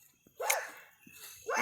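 A dog barks nearby in two or three short, sharp bursts separated by quiet gaps, with no talk over them.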